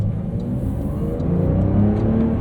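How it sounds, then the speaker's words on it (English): A 2023 Porsche 911 Carrera T with a manual gearbox and sport exhaust, valves open in sport mode, drones loudly under acceleration, its engine note rising steadily and filling the cabin without any talk. "sport mode and all modes above will open those valves up, give you a louder noise"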